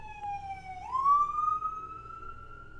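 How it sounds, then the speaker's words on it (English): An ambulance siren passes by outdoors, its clear rising wail sweeping upward in pitch and swelling louder midway before holding steady, heard alone without talk. "an ambulance is going by"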